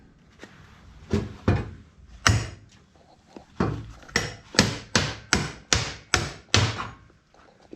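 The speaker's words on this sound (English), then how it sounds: "sometimes with tack welds you can just whack them and they'll pop off" Roughly a dozen sharp, loud hammer whacks ring out on a steel minibike frame as tack welds are knocked off, irregular at first, then a steady run of blows close by with no talk.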